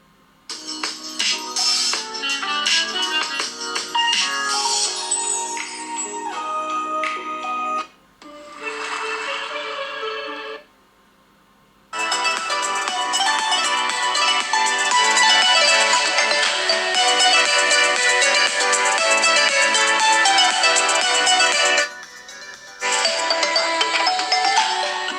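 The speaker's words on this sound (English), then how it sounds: "I'm going to resort to YouTube and listen to some copyright-free music" Copyright-free music plays through the speaker of a Samsung Galaxy A31 phone, loud and continuous, with a few brief pauses and a quieter thinner section partway through.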